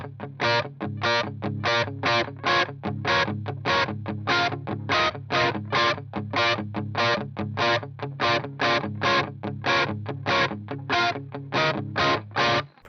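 A riff on a distorted electric guitar with the tone knob fully open, brighter and crisper: a long run of rhythmic chord hits repeating steadily over about thirteen seconds, loud and close with no voices.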